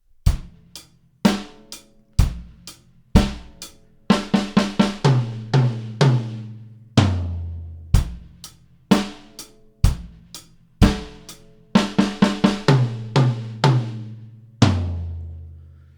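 A solo drum kit plays the same one-bar beat twice in a row, with clear, close bass and snare strikes and quick bursts of tom and cymbal hits repeating in a steady pattern.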